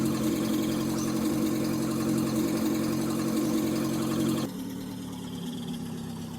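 A car engine runs steadily while driving in The Long Drive, a low continuous hum that drops to a quieter, softer drone partway through, with no voices.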